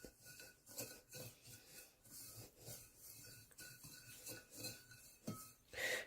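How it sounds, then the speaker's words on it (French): Ground meat being mixed with chopped onion and breadcrumbs in a bowl, a soft rasping, squelching stir repeating in uneven strokes with the occasional light clink against the bowl, close and moderately quiet. "Je vais mélanger."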